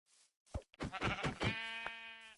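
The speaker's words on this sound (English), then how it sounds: "And then there's a lot of sheep around here," Sheep bleating in the Minecraft video game, a short burst followed by a long, steady, loud bleat that stands alone and close.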